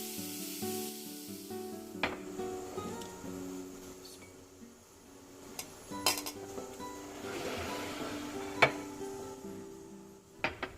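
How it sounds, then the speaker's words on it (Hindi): Sweet corn and chopped capsicum fry in butter with salt and black pepper, giving a steady close sizzle broken by a few sharp utensil clinks and stirring scrapes. "बटर में स्वीट कॉर्न को अच्छी तरीके से मैंने फ्राई कर लिया"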